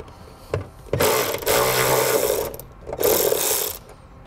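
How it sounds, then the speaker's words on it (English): A 10 mm socket wrench loosens a nut during a trailer wiring harness installation on a 2013 Toyota, giving two long bursts of rapid, loud ratcheting clicks close to the microphone, separated by a short pause. "I'm going to take a 10 millimeter socket and loosen that nut up"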